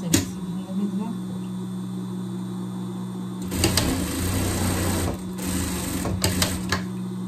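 A sewing machine stitches a sleeve onto a jester pet costume, starting after a few seconds as a close, steady whirring clatter with short stops, over a low background hum.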